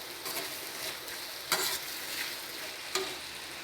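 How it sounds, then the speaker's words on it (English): Capsicum tomato pulao being stirred in a kadai, a steady sizzle with two sharp scrapes of the spoon against the pan, close and alone. "In between you mix it so that it won't stick to the kadai"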